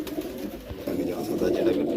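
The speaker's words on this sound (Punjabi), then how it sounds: "ਇਹ ਅੰਮ੍ਰਿਤਸਰ ਦਾ ਕਬੂਤਰ ਹੈਗਾ" A pigeon coos softly in a low, rolling murmur, steady through the short stretch with faint background noise.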